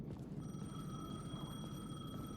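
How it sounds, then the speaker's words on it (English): A payphone rings inside the video game Alan Wake II, a faint, steady electronic ringing tone held throughout over a dense, rumbling ambient background. "The payphone was ringing."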